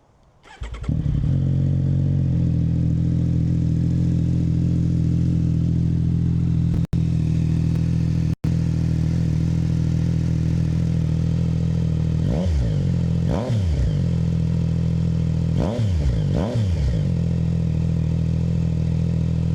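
A 2024 Yamaha MT-09 motorcycle fitted with a Yoshimura AT2 exhaust starts up loudly and settles into a steady, rumbling idle, then gets a few short, sharp throttle blips near the end, with no talking.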